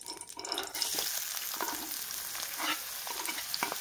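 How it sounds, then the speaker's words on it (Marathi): Onion hits hot oil for egg bhurji, bursting into a bright, crackling sizzle that holds steady and close, with faint scrapes of stirring through it. "आपल्याला तेल गरम झालं की त्याच्यामध्ये टाकायचा आहे कांदा"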